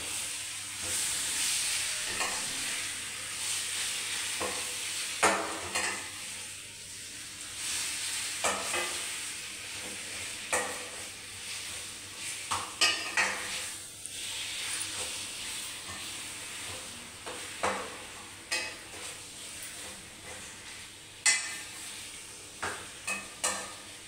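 Chicken stirred as it fries in a pan, a steady close sizzle and hiss broken by repeated scraping and clattering strokes of the spoon, with no talking.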